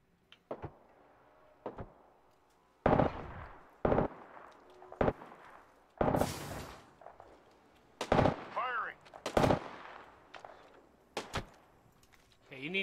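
Gunfire in a video game rings out as sharp, loud single shots and short bursts, scattered irregularly with brief gaps between them, over a quiet background.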